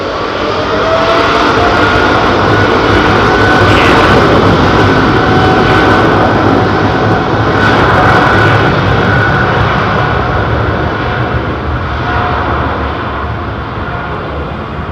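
Loud, steady roar of Boeing 777 jet engines at London Heathrow, a dense broadband rumble that holds throughout with slight swells, no talk over it.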